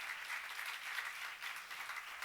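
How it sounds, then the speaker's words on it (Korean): A church congregation applauding during a sermon, a faint, distant wash of many hands clapping that holds steady without a break. "박수로 나와주세요"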